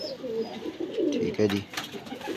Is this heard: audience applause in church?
no